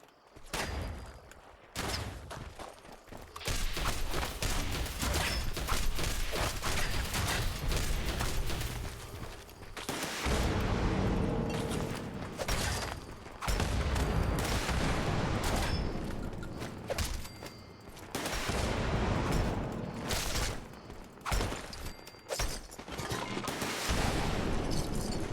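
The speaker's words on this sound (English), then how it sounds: "This one's shooting rockets at me." A dense, sustained barrage of explosive blasts and shots fills a video game battle as an enemy fires rockets, loud and nearly continuous with brief lulls between bursts.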